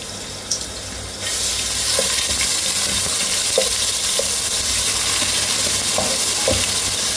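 Crushed ginger and garlic hit hot oil with fennel seeds, bursting into a loud continuous sizzle with occasional stirring clicks.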